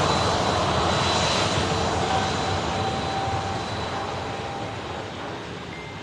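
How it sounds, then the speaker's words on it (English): Virgin Atlantic Airbus A350 on approach to Manchester Airport, its engines giving a steady broadband jet roar with a faint whine that holds loud and fades slightly toward the end. "Now being vectored on the ILS is the Virgin Atlantic A350 as well."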